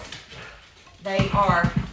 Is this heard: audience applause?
no